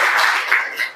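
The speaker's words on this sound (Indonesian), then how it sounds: "Tepuk tangan dulu dong." Students in a high school classroom clap their hands together in a dense, continuous burst of claps lasting about a second, fairly loud and steady with slight swells.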